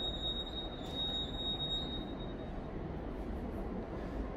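A São Paulo metro train runs past near Bresser-Mooca station, a steady rumble of wheels on rail with a thin, high wheel squeal that fades out midway.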